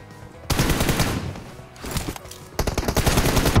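Bursts of rapid gunfire in a shooting video game, loud and close, two long volleys broken by a short lull, the second burst cracking in quick repeated shots.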